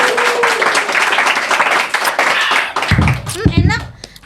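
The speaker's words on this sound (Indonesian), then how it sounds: "Abis, tepuk tangan teman-teman." A group of friends breaks into applause, with bursts of hand clapping mixed with lively talking voices close by.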